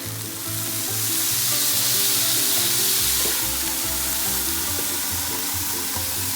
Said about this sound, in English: And that sizzle and the smell is amazing.